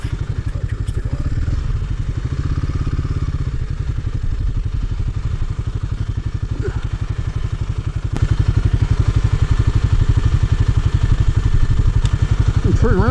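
A Royal Enfield Himalayan motorcycle engine runs close by with a steady, throbbing idle that grows a little louder partway through, with no talking over it.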